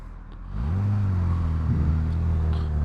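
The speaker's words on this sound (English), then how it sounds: "he's trying to overtake me now" A car overtakes a motorcycle on a road, heard from the rider of a Honda CBR 1000RR Fireblade: a low engine rumble swells and holds steady, rolling past close by under constant road noise.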